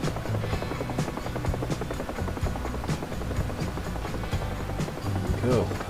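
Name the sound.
helicopter flying in DCS video game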